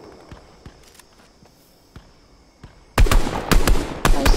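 Bursts of gunfire in the video game Fortnite, played in a Zero Build solo match: scattered faint shots early on, then a loud, dense volley of close rapid fire in the last second and a half.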